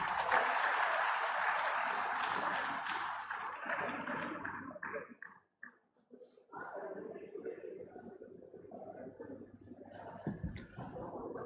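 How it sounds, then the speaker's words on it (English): Graduation day crowd in a university assembly hall applauds in a dense burst that tapers off after about five seconds, followed by a short pause and then someone speaking at a microphone. "please join me in welcoming Sir with a warm round of applause."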